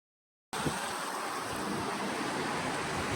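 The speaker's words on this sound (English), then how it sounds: "there are parts of the river where there's going to be a heavier, faster current" The Virgin River at Falls Park near Las Vegas rushes along with a heavier, faster current, a steady close roar of flowing water that starts abruptly after half a second of silence.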